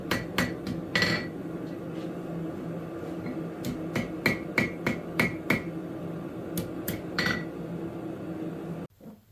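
Hammer striking rebar on an anvil to bend the ends while forging a door handle, sharp metallic blows in uneven bursts and singles, close and clear with no talk.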